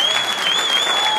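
Audience applause at a performance, a dense burst of clapping from a crowd with a steady whistle ringing above it, loud and close throughout.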